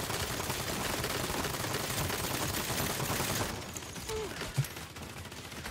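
Dense, continuous automatic gunfire from enemy guns in the Saints Row video game, a sustained loud barrage of rapid shots that drops off sharply partway through, leaving quieter clatter and a single thump.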